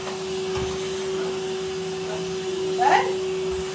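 A vacuum cleaner runs steadily on a carpet, a constant motor whine holding throughout with a brief louder surge near the end, while voices are faintly present beneath it.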